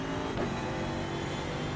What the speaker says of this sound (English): just the sound of the Mercedes, is perfect. So grunty, isn't it?